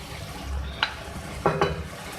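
A spoon stirs half a cup of yogurt into a sizzling tomato masala in a pan, with a soft frying hiss throughout and a few short scraping clinks of the spoon against the pan, close and fairly quiet.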